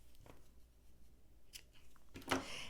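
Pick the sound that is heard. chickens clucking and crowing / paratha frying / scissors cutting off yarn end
scissors cutting off yarn end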